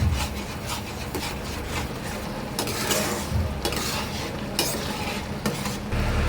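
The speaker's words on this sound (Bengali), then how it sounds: "অলমোস্ট কিন্তু মিষ্টিটা ফোটা শুরু হয়ে গেছে। এটা ভালো করে ফুটিয়ে মেরে নিতে হবে।" Sweet paneer sandesh mixture with milk bubbling in a pan while being stirred, a steady close scraping and soft sizzling texture with repeated stirring strokes throughout, no talking.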